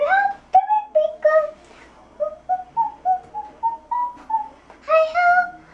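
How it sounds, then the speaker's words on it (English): A person whistles a melody of short, clear pitched notes, moving up and down in a bouncing rhythm, heard close and alone. "Wow, you're a good whistler."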